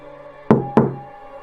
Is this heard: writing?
no